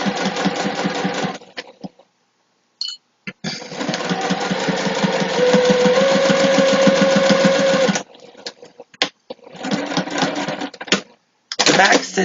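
A sewing machine stitches the side seam of a clutch wallet at a quarter-inch allowance, running in one long steady burst of rapid needle strokes, then several short start-stop bursts separated by brief silences.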